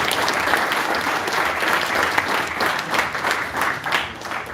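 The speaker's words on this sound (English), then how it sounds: "So round of applause to Dinny and Lawrence." Conference audience at a Bitcoin event claps steadily, a dense, sustained round of applause close by that swells and fades in waves.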